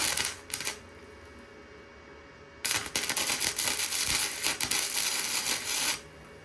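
A welder lays plug welds on a 1994 Harley-Davidson Sportster chopper frame, two bursts of loud, crackling buzz, a short one and then a longer sustained one lasting several seconds, close up with no talk.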